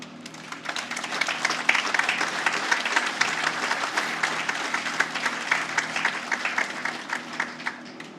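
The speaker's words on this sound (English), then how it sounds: "if you're so inclined, you may applause" Audience at a tribute to heroes ceremony in Manatee County breaks into applause, a moderately distant, steady patter of many hands clapping with uneven peaks throughout.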